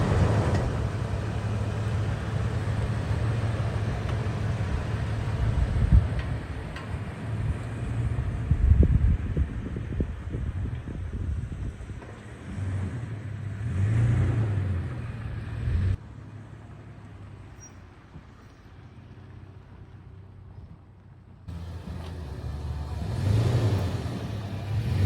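A car drives along a road with a steady engine hum and rumble, rising with a few revving surges, plus wind buffeting the microphone; the level drops for a stretch before the engine noise swells again.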